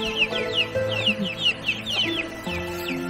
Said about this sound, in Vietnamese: Cái này là con gà núi.